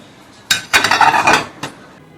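Dried plates and bowls being stacked and put away in a home kitchen, a brief burst of clattering ceramic and metal clinks, close and fairly loud, ending with one last knock.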